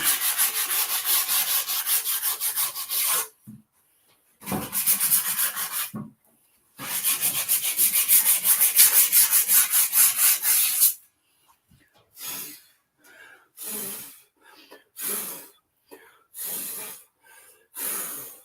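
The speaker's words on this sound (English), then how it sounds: "We're just cleaning up the old air cleaner here." An old air cleaner being scrubbed by hand, with repeated rough rubbing and rasping strokes in bursts, separated by pauses and shorter scrapes toward the end.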